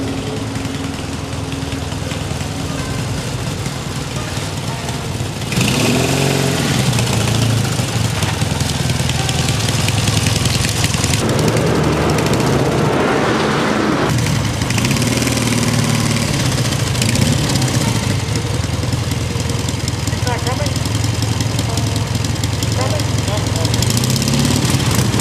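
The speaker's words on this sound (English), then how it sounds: "The engine is fired" A Harley-Davidson style sidecar motorcycle engine runs with a loud, steady chugging idle that swells louder partway through, close by, with a voice talking over it at times.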